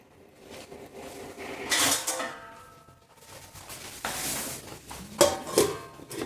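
A metal lid is placed on a cooking pot of carrots simmering with water and sugar for murabba: a few clattering knocks and scrapes of metal on metal, close by, with sharper clinks near the end.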